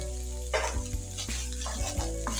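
Cabbage being stir-fried for beef spaghetti in a pan, a constant sizzle broken by several sharp scraping and clanking stirs of a utensil against the pan, close and fairly quiet, with no talking.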